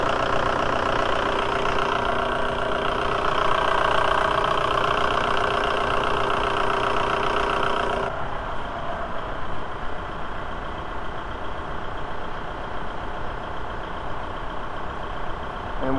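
A 1.9L ALH TDI diesel in a VW A4 idles steadily while warming up, a loud, close, continuous engine drone whose tone shifts and drops slightly partway through.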